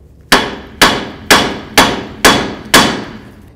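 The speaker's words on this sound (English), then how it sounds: "Just tap the knuckle." Six sharp metallic hammer blows strike the steering knuckle of a 1984-2001 Jeep Cherokee during a front lower ball joint replacement, evenly spaced about half a second apart, loud and close, each ringing briefly, with no voices.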